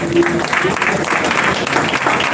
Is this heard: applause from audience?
yes